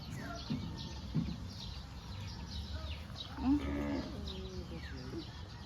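Cattle moo at a moderate distance, one longer low call standing out in the middle, with faint birds and outdoor background around them.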